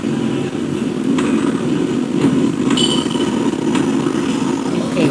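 A train in Tony Hawk's Project 8 stalls. It gives a steady, loud mechanical rumble, with a few brief metallic clanks and bursts scattered across the continuous drone.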